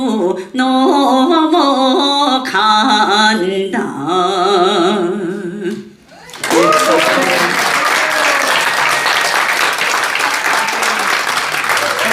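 Audience at a Seoul culture awards ceremony bursts into loud, sustained applause right after a musical performance fades out, the clapping continuing densely to the end.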